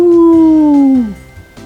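A single loud, close, sustained howl imitating a wolf howling at the moon, holding a steady tone then sliding down before stopping.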